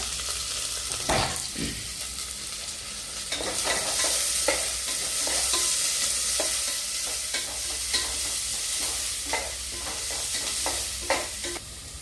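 Whole spices with cinnamon frying in a pan for vegetable biryani give a loud, continuous close sizzle, broken by irregular spoon scrapes and stirring knocks, with no voices.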